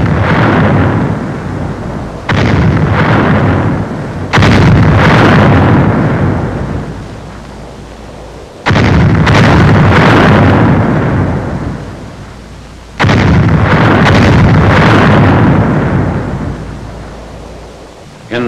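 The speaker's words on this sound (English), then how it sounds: "Final shelling of the town is directed by the 7th Field Artillery Observation Battalion." Artillery shells a French town in wartime, with heavy booming blasts arriving in several loud bursts that roll and slowly fade between impacts, dense and near.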